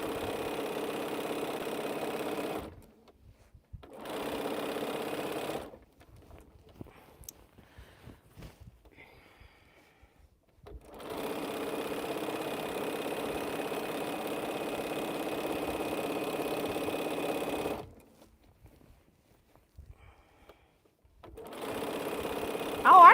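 A sewing machine stitches quilt strips at high speed in loud sustained runs of whirring, separated by short pauses of near silence, with a few quiet clicks in the gaps.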